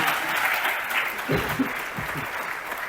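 An audience at a business presentation bursts into brief applause, a dense, short spell of clapping that tapers off after a few seconds.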